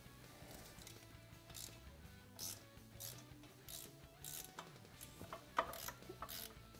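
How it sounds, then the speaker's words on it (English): A ratchet wrench tightens the pinch bolts on a Yamaha YFZ450R chain adjuster, rapid clicking bursts repeating in short strokes, close but quiet, with no talking. "then we'll tighten these pinch bolts down to 15 foot-pounds"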